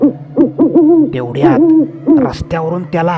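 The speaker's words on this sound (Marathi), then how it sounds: "एका पडक्या वखारीतून घुबड घुमल्याचा आवाज येत होता" An owl hoots repeatedly from a crumbling old warehouse in a Marathi horror tale, giving a series of loud, close, rounded calls in an uneven rhythm, with almost no voice over them.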